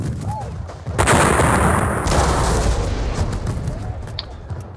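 Artillery fire in a Napoleonic wargame, a loud booming cannon volley that erupts suddenly and rumbles on with heavy sustained noise before slowly fading.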